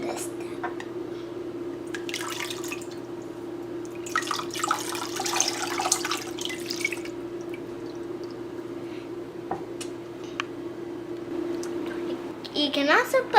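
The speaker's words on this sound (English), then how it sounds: "pour the next cup of water over your hands so you can wash off the germs." Water poured from a cup over hands to wash off germs, several bursts of splashing and trickling over a steady low hum, with a voice speaking.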